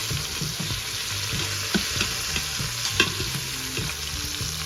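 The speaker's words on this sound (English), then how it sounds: "And just keep turning until it's browned on all sides." Oxtail pieces browning in oil in an Instant Pot, with a steady sizzle and rhythmic scrapes and knocks as the meat is turned again and again.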